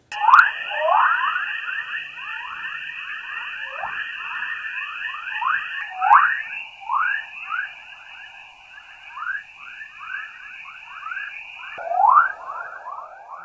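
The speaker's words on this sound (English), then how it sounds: "listening to so-called chorus waves that sound like this" Chorus waves in Earth's Van Allen radiation belts: rising electronic chirps repeat in quick succession, like a chorus of birdsong, over a steady high-pitched hum, with a few louder swoops.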